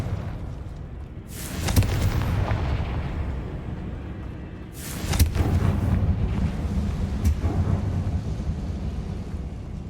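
Two heavy booming blasts from the Confringo fire spell in Hogwarts Legacy, each a sharp loud burst followed by a long rumbling decay, spaced a few seconds apart.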